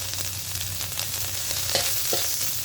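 Curry paste dropped into hot oil in a wok or pan sizzles and fries steadily, with a few scraping stirs cutting through the crackle; close and moderately loud, no voices.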